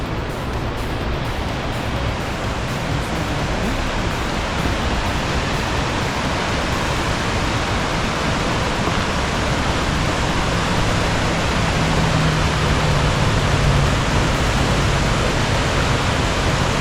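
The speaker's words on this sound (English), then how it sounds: "Pretty secret waterfall." Broadband roar of a hidden waterfall beside a busy mountain highway in the San Juan Mountains, a steady loud rush of falling water filling the whole stretch with no talking.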